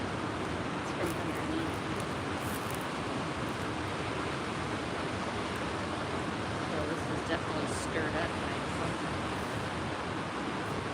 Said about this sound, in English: A couple big waves coming in out there.